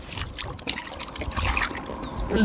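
Water released from a fishing enclosure where a large snakehead fish has been caught, trickling and gurgling steadily throughout, fairly close, with faint outdoor background noise and no speech.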